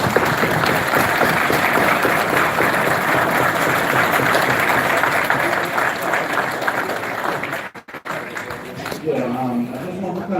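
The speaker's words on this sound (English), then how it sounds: "All right, give them a round of applause." A crowd at a religious summit in Atlanta applauds steadily and loudly for about eight seconds, then the clapping cuts off and a voice begins speaking.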